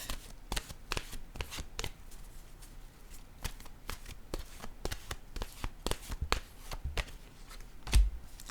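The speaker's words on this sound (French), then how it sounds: "Je vais déposer maintenant une carte de mon oracle de l'âme intuitive." Oracle cards shuffled and laid down by hand, giving a run of quick, crisp riffling slaps and taps at an uneven rhythm, close and fairly quiet, with a soft thump near the end.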